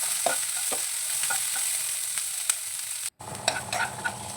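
Coriander stems and spices being stirred in a frying pan, a constant hot sizzle broken by repeated spatula scrapes and taps, with a brief dropout before the sizzle returns louder.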